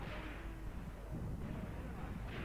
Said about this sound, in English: getting some artillery over there from me